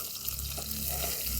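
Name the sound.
frying catla fish heads in oil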